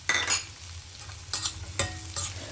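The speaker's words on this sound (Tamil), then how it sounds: "இப்போ நம்ம வந்து இந்த சின்ன வெங்காயத்தை போட்டுக்கலாம்." Small onions frying in coconut oil with ginger and curry leaves, a steady close sizzle broken by several louder stirring bursts, with no voices.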